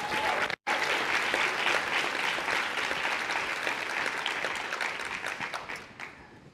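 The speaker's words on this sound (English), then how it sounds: "please give yourselves a round of applause." Dense audience applause at a college fund pitch competition event, steady and fairly loud throughout with a momentary dropout near the start, tapering slightly toward the end.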